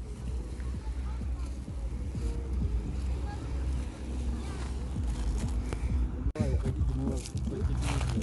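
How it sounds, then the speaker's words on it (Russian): A police motorboat's engine drones steadily on open water in Germany, mixed with wind buffeting the microphone and lapping waves, while someone talks over it. "вот этот полицейский катер"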